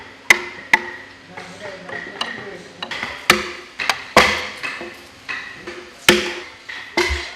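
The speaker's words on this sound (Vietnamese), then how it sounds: "Âm thanh của tiếng bào," Hand woodworking in a traditional Vietnamese wooden-house workshop, with sharp irregular knocks and taps of chisel and mallet on timber, fairly close and distinct, spaced unevenly with decaying ringing tails.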